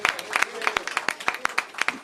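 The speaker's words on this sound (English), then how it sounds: "Let's give Mayor Bowser and her team another round of applause" Round of applause for a mayor and her team at a Washington small business grant awards event, a burst of sharp individual hand claps from a modest crowd, fairly close and scattered in rhythm, lasting the whole moment.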